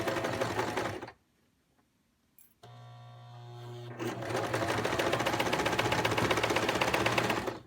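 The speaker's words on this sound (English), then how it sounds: "And then with the largest stitch your machine has, baste them together." A sewing machine bastes two pieces of fabric together on its longest stitch, running in a fast, even mechanical patter, pausing briefly, then starting up again and running steadily and close to the end.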